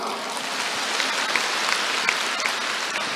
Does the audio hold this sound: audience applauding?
yes